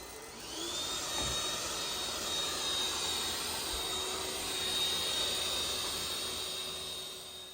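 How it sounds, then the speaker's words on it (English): An iLife T10s robot vacuum cleaner runs with a loud, steady high-pitched whirring motor drone and a broad hiss, holding level from start to finish with no talking. "you may notice a couple things. How loud it is."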